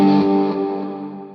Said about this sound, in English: I'll use this first reverb just because it gets really washy